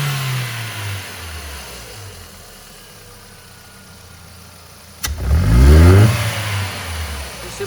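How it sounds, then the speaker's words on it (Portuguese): A Ford Fiesta Ka engine with a fault of losing power, backfiring and using too much fuel: quiet idle, then a sharp rev rising in pitch and loudness near the end before settling back, close up. "Você percebe mesmo a saúde do motor, você percebe o giro subindo, a rotação subindo"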